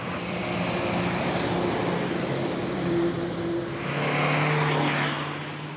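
Two ordinary car passes recorded at a roadside traffic noise test, a steady broadband road and tire roar swelling and fading as each vehicle goes by, with no talk.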